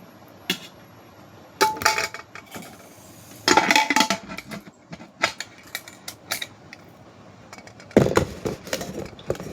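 Rice is served from a pressure cooker in a home kitchen, heard as intermittent metallic scrapes and clinks of a utensil against the pot in short bursts separated by quiet gaps, with no talking.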